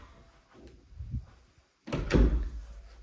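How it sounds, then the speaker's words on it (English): Double doors of a bedroom in a newly built custom home swinging open, a few soft handle rattles and thuds followed by a louder wooden clunk and rumble, close by with no talking. "We've got double doors here."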